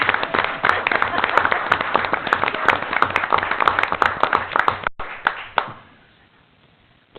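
A crowd applauds at a school board trustees meeting with dense, steady clapping that fades out after several seconds, leaving a quiet room.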